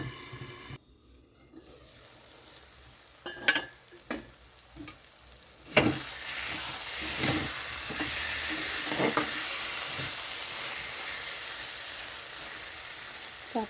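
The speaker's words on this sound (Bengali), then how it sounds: "মশলাটাও ঠিকঠাক কষানো হবে।" Spice masala and potatoes in a pan for a fish curry, with a steady frying sizzle that swells louder partway through, broken by a few clinks and scrapes of stirring.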